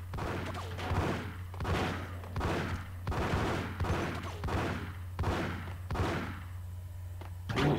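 Gunfire in the Max Payne video game rings out in a rapid series of heavy shots, roughly evenly spaced bursts repeating across several seconds over a low steady hum.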